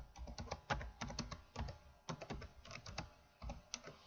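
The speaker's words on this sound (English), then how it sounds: "I go to try to type other things." Typing on a computer keyboard, close and quiet: bursts of rapid key clicks separated by brief pauses, with no voices.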